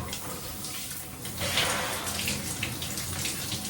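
Cold shower water runs in a continuous hissing spray, splashing and swelling as the stream hits the body, close and steady with no talking.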